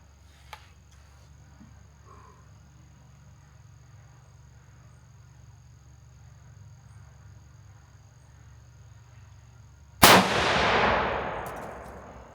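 Near silence with faint insect-like hum, then a single sharp .30-06 Ruger American rifle crack followed by a ringing metallic clang from a steel target that decays over a couple of seconds.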